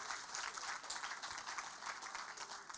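Audience applause at a national HIV/AIDS symposium in Uganda, a steady wash of many hands clapping that holds at moderate level for the whole stretch, with no voices over it.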